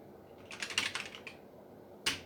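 A short burst of computer keyboard typing on a homebuilt 68000 retro computer, a quick run of light clicks followed by a pause and one last keystroke, close and quiet.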